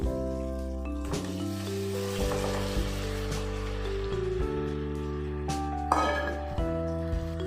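Half a kilo of washed chicken goes into a pan of hot, sizzling ginger-garlic paste for Andhra-style chicken pulusu, giving a steady loud fry with clinks of utensils and a sharper burst of sizzle near the end.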